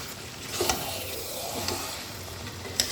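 Washed mutton is sautéed over high heat in a kadai, giving a constant loud sizzle close by, broken by a few sharp clicks and scrapes of stirring, with no one talking.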